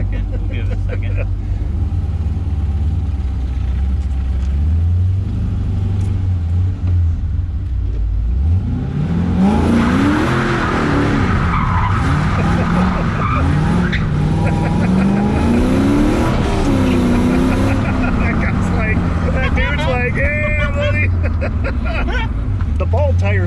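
A C5-powered go kart with bald tires revs and spins through a donut, the engine climbing and falling in waves with tire scrub, loud and close, while people talk over it.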